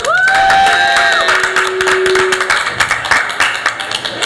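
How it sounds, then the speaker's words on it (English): A small audience at a talk show event at Liverpool Psych Fest claps in scattered bursts, with whistle-like tonal sounds and cheering early on, thinning into uneven individual claps near the mic. "Let's have a round of applause for Judith"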